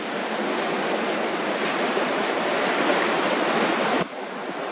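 Strong wind blows steadily outdoors at night, a loud, dense broadband roar that holds constant for about four seconds before dropping slightly in intensity.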